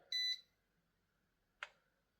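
Electronic beeps from a Ruko F11Pro 2 drone controller as it powers on: a short two-part tone, then a single brief chirp about a second later. Both are clear and close, with quiet between them.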